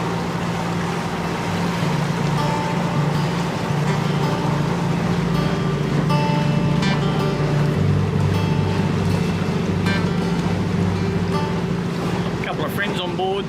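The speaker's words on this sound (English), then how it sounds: "Today, just giving the boat a run." A motorboat runs at sea near Magnetic Island on a calm, sunny day, its engine a steady, close, continuous drone with rushing water and hull noise throughout, and a brief voice near the end.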